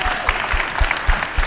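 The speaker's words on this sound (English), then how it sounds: "Round of applause for our gold sponsors" Applause from an audience at a college evening event, greeting a round of gold sponsors. Dense, steady clapping fills the short stretch, with a few heavier low thumps breaking through the wash.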